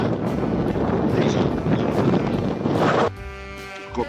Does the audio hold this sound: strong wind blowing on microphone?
yes